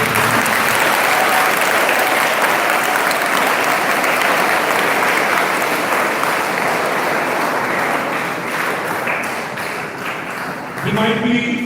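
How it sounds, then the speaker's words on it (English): Sustained applause from a crowd at a school event in Patna, India, dense clapping that fills the whole stretch and tapers slightly near the end. "Can you give a big round of applause?"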